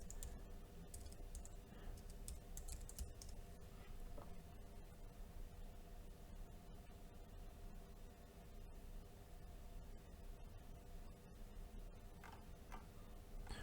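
Soft, steady typing on a computer keyboard, with light rapid key ticks running continuously under a constant background hiss, faint and close, no speech.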